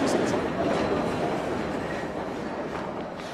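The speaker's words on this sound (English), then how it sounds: "what we've got is an engineer's train moving through the area tonight" Low rumbling roll of an engineering train moving through a London Underground tunnel at night, a steady dull mechanical roar with faint rail clatter, close and continuous.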